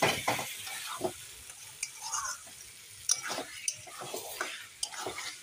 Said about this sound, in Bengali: দেওয়ার পরে আমি গিয়ে ভালো করে নেড়ে নিই।